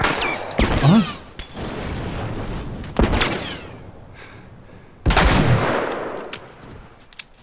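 Gunfire in the video game The Last of Us, three sharp separate shots with loud echoing tails a couple of seconds apart, close and punchy, with brief quiet stretches between.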